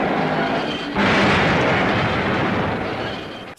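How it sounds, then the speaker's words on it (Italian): A loud, sustained explosion from the Godzilla film Godzilla Raids Again bursts in suddenly about a second in and rumbles broadly before slowly fading, with no one talking. "Naturalmente l'esplosione attira l'attenzione di Godzilla"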